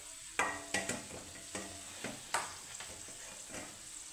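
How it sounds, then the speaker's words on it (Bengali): Soybean and mung dal koftas fry in hot oil under a soft steady sizzle, broken by repeated sharp clinks and scrapes of a utensil at irregular intervals. "তো একইভাবে সবগুলো আমি ভেজে নিব।"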